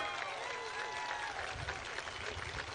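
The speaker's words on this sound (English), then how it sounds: "Can we give these fine men and women a round of applause for all their hard work?" An outdoor crowd at the Port of Corpus Christi in South Texas breaks into distant, diffuse applause and cheering, a faint, steady roar with low rumble beneath it.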